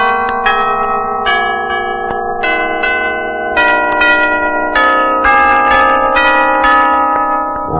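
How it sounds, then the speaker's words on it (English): Doorbell chime on a 1959 radio program, a sequence of ringing bell tones forming a melodic tune, loud and clear with long sustained resonance. "that's a cute doorbell you have"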